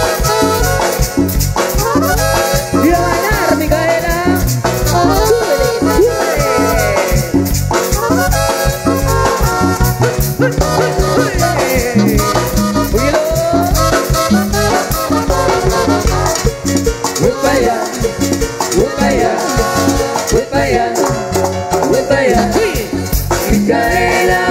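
Quebradita dance music by a band from San Antonio Palopó, a loud, dense band recording with a driving steady beat and busy melody running continuously throughout.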